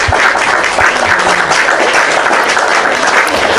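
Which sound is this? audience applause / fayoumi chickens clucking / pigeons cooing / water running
audience applause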